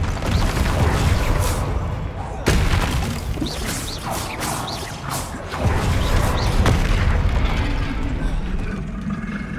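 Confringo spell blasts in the Hogwarts Legacy video game: loud, dense combat noise of booming, crashing impacts and mechanical clatter, with sharp bursts near 2.5 and 6.5 seconds over a constant rumbling din.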